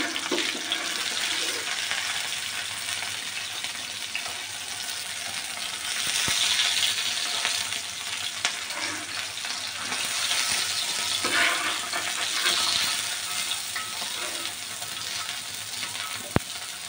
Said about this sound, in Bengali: তো মাছগুলো ভাজা হয়ে গেছে, এখন মাছগুলো তুলে নিব এক এক করে।